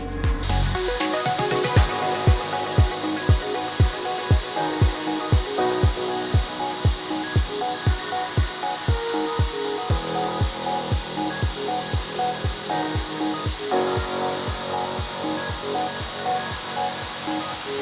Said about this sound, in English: I'm literally on the last stretch of weld down the header.